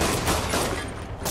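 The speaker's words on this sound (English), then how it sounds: "Stop fucking shooting me" Enemy gunfire rattles in the Spider-Man PS4 game, a dense, loud burst of rapid shots filling a short moment.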